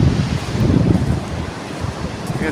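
Sea waves roll onto the beach near Digha, a steady close wash of surf mixed with gusty wind buffeting the microphone, continuous and fairly loud for a couple of seconds.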